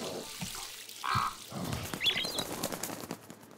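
A pigeon flaps its wings in the video game El Hijo: a short burst of fluttering mixed with faint chirps, set against busy ambient game sound, with no talk.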